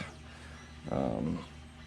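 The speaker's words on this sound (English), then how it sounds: "sorry about the 3D printer roaring away in the background" A 3D printer runs in the background with a steady low mechanical hum, then swells into a louder whirring, whining stretch of motor movement for about half a second before settling back.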